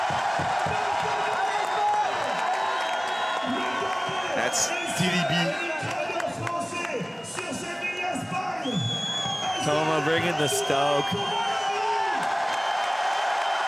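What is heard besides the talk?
crowd cheering at BMX freestyle event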